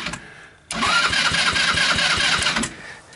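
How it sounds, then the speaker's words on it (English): Sunl Alias off-road go-kart engine cranking on its electric starter after the key is turned, a sudden loud rhythmic chugging that runs for about two seconds and then stops, heard close up. "walk up to the key switch, turn it, and then, hit the starter."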